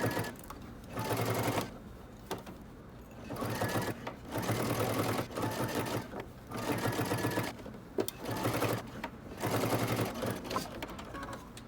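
Sewing machine stitching the underarm seam of a sleeve on a Simplicity dress, running in repeated bursts with short pauses between them, close and steady, with a little faint talk in places.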